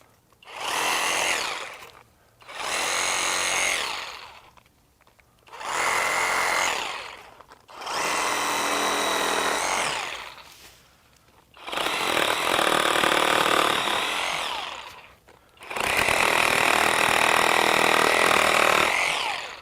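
A SKIL 20V brushless one-handed reciprocating saw fitted with a pruning blade cuts through branches in six loud buzzing bursts with short pauses between them, the final cuts running longer.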